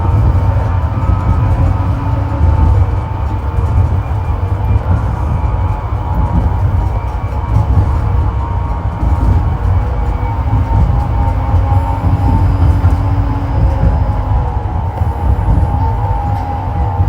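A Moscow tram rolls along its rails with a steady low rumble and rattle, loud and continuous from inside the car, with faint crowd noise.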